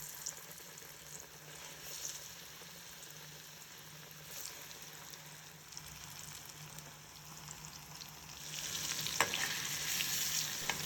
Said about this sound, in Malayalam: നമ്മൾ കട്ട് ചെയ്ത് മാറ്റി വെച്ചിട്ടുള്ള പഴം ഇതിലേക്ക് ചേർത്ത് കൊടുക്കുക എന്നിട്ട് രണ്ട് സൈഡും നന്നായിട്ടൊന്ന് ഫ്രൈ ചെയ്തെടുക്കണം